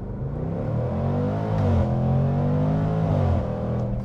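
A Jaguar F-Pace SVR, a 550 hp SUV, accelerating hard, heard from the cabin as a loud, deep engine roar climbing steadily through the revs with no talking.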